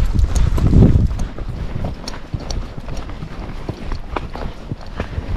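An Icelandic gaited horse walks a trail, its hooves landing in a steady, brisk clip-clop up close, with rustling and tack noise throughout.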